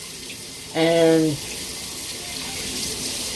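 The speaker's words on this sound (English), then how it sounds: "So you're gonna fill the pot up half with water" A kitchen tap runs into a cooking pot, filling it partway with water: a brief loud gush with a rising, ringing tone as the pot fills, followed by quieter background, with a word spoken nearby.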